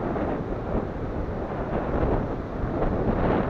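Steady, roaring wind at Abbots Pool buffeting the microphone, a dense low rumble that holds constant throughout with no voices.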